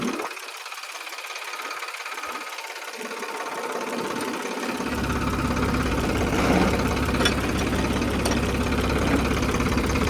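A tractor engine with a dual PTO clutch chugs steadily, the sound filling out into a fuller, louder drone about halfway through as the PTO engages, continuous and close with no talking.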